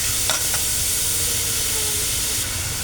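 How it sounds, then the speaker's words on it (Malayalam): Sliced onions sautéing in oil in a pan, a steady close sizzle and hiss with a few scraping stirs early on, continuous throughout with no talking. "നമ്മുടെ ഉള്ളി ഇട്ട് നമുക്ക് ഇതൊന്ന് വഴറ്റിയെടുക്കാം."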